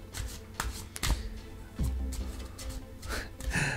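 A deck of Star Avalon Angels oracle cards is shuffled by hand, giving close papery riffles and soft slaps in short bursts, with quiet breathing and no speech.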